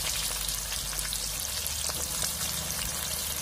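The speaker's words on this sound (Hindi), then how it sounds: "प्याज और हरी मिर्ची जो है वो धीरे धीरे फ्राई हो रहे हैं" Chopped onions and green chillies frying in hot oil, a dense, steady close-up sizzle and crackle that carries on evenly without pause, with no voices.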